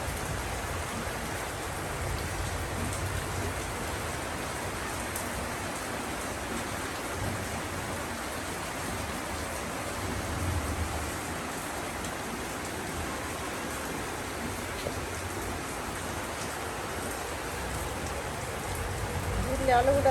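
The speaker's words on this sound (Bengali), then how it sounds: "এইদিকে হচ্ছে বৃষ্টি, প্রচুর বৃষ্টি হচ্ছে, প্রচুর বৃষ্টি।" Heavy rain falls steadily as a dense, even roar of drops on surfaces, continuous and fairly loud for the whole stretch, swelling slightly at the end.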